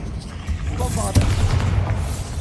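A single deep boom from the Bombarda explosion spell in Hogwarts Legacy, a loud low blast about midway with a rumbling tail and faint game ambience around it.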